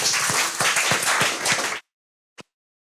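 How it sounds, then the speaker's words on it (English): Audience applause for a debate candidate in a classroom debate: a burst of many hands clapping densely for nearly two seconds, then silence broken by one last isolated clap. "One clap for Victor."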